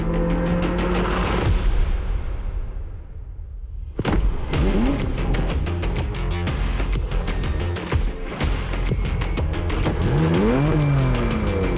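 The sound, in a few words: BMW M4 Competition car engine in video game The Crew Motorfest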